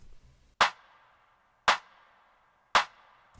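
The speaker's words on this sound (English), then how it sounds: "This clap sound." Three sharp, bright claps from a layered clap sample land at an even, slow pace, each with a short ringing tail, alone with no voices.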